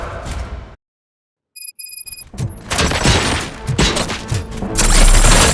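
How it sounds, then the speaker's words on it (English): Gunfire in the Robocop: Rogue City video game: dense, loud bursts of shots and crashing impacts break out after a short silence and a few electronic tones, then keep building toward the end. "Gunshots? What's going on?"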